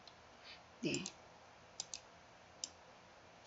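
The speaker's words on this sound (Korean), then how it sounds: "연필 단추 편집 버튼 눌러서" Computer mouse clicks while editing an online survey form, four or five small sharp clicks spaced out, close and faint, with a short murmured voice sound partway through.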